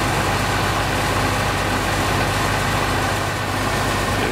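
A boom truck's heavy engine idles steadily at close range during tree removal, a dense, constant low rumble that holds without a break for the whole stretch and carries no voices.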